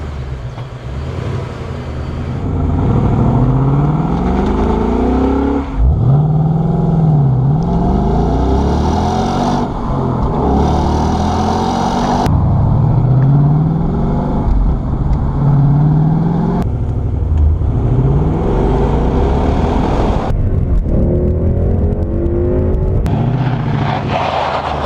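Ford Mustang GT V8 with manual transmission pulls hard on tight roads, engine note climbing and dropping through repeated gear changes, loud and close with sweeping pitch rises between shifts.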